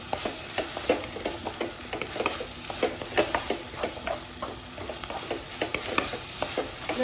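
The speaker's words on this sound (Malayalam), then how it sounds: "എന്നിട്ട് ഇതിൻ്റെ സ്മെല്ലൊക്കെ മാറുന്നവരെ നന്നായിട്ട് ഇളക്കി കൊടുക്കാം." Tomato chutney with chili is stirred in a pan, a rhythmic series of close spoon scrapes and clacks over a continuous frying sizzle, with no voices.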